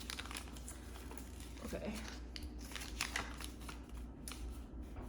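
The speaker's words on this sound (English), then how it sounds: "I'm gonna put the cards here, you guys can see." Tarot cards are handled, shuffled and laid out on a surface, making faint, soft flicking and rustling sounds close by, beneath a quiet speaking voice.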